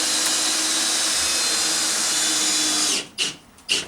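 A power drill drives screws into a timber garage door frame on a post-and-beam garage build, giving a steady, loud whine for about three seconds before stopping, then two short trigger bursts.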